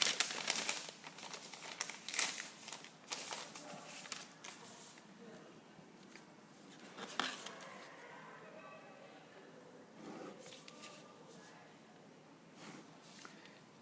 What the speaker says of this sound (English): So let's get a graph paper